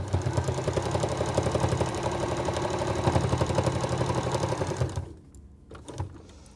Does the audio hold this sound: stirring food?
no